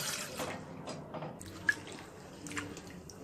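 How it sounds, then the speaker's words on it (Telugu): Water poured from a glass into a bowl for a curry leaf decoction, soft splashing and trickling that fades to a few drips and small clinks, quiet and close. "ఒక బౌల్లో 1 గ్లాసు వాటర్ వేసుకొని"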